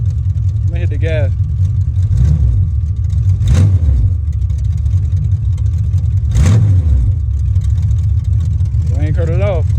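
A Chevrolet Monte Carlo SS V8, smoking more than usual, idles with a deep rumble before two sharp throttle blips swell into loud revs and fall back, with brief voices in the background.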